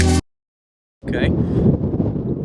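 Gusty outdoor wind rumbles and buffets against the microphone after a brief burst of sound and a second of silence, a low, rough, continuous roar that stays loud to the end, with no talking.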